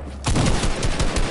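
Rapid bursts of gunfire from a first-person video game shooter with pistols, a dense volley of shots crackling loud and close from start to finish after a brief quiet opening.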